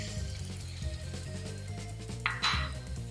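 Tomato purée goes into a pan of sizzling spices for matar paneer, bringing a soft steady fry under clinking metal utensils and a brief brighter splash of sizzle near the end.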